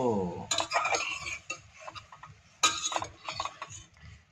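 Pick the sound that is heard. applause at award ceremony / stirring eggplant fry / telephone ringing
stirring eggplant fry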